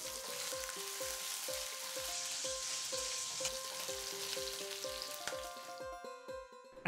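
Slit green chilies fry in a pan for an ivy gourd and potato stir fry, a continuous hiss with rhythmic stirring knocks, ending in a brief louder clatter.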